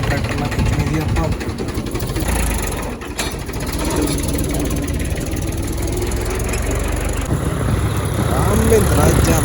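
A Mahindra tractor tows a broken-down school bus, its engine a steady, close low rumble with a throbbing beat that runs the whole time beneath voices talking.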